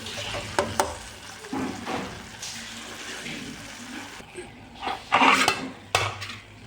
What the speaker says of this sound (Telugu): టమాటా ఉడికేంత వరకు ఇలా కలుపుతూ మంచిగా ఉడికించుకోండి